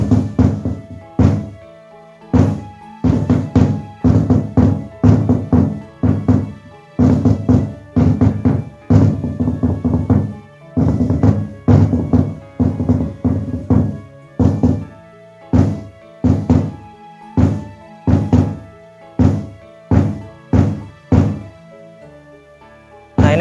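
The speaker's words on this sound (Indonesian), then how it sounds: "Ini kalau suara bassnya aja seperti ini ya." A hadroh bass drum (bass Habsi) with a carved shell is struck alone in steady, lively rhythmic patterns of deep, booming thuds, played close and loud with brief pauses between phrases.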